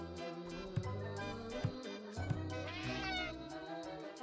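A cat meows in the video game Friday the 13th: Killer Puzzle, a drawn-out plaintive call over a busy layer of game music and effects.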